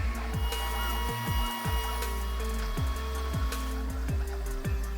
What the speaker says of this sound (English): get the G-code to the printer right away.